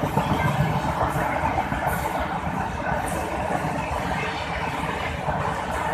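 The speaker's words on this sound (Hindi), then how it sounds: "ये ट्रेन कौन सी थी जो यहाँ से अभी पास हो रही है, हालांकि ये इतने स्पीड से चल रही है" Passenger train rushing past a crossing at high speed, a steady loud roar of wheels and wind filling the whole stretch without letup.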